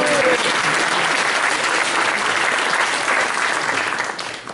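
An audience applauding at a village event in a room, dense sustained clapping that holds steady, then thins and fades out at the end.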